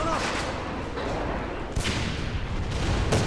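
Grenade blasts and gunfire in the AVA first-person shooter, a dense run of booming bursts with sharp cracks over continuous battle noise, a heavy explosion near the middle and another at the end.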